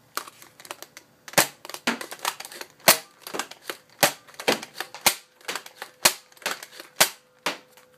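A modified Dart Tag Hyperfire blaster fires foam darts at a shed outdoors, giving a rapid run of sharp, loud clacking shots, some with fainter mechanical clicks between them, and no voices over them.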